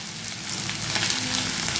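A dried red chili, cut up, drops into a hot frying pan while bread bhelpuri is being cooked, giving a steady close sizzle that swells slightly and holds for under two seconds.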